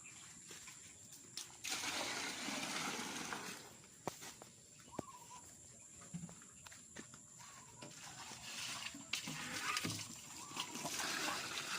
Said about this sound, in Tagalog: ang sarap uh, maligo sa uh, tubig galing sa balon guys dahil mainit-init pa ito sa morning